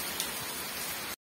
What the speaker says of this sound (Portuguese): chuva em Lapão, Bahia, na região de Irecê.